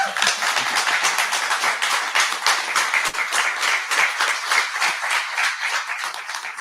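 Audience at a tech forum applauds in a dense, steady burst of clapping lasting several seconds, fading slightly at the end.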